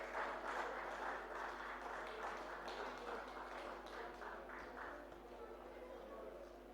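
An audience at a Yoruba festival in 2015 applauds, a faint, distant and steady patter of many hands clapping over a low electrical hum that slowly fades.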